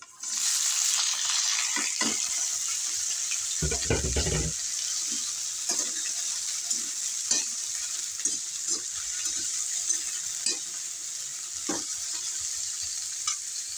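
Onion and cauliflower frying in a pan give a loud, steady hiss throughout, broken by scattered clicks and scrapes of stirring and a brief thud early on.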